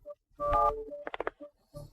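Telephone number being dialed, a short burst of keypad tones in quick succession with a steady tone before them, close and clear with no voices.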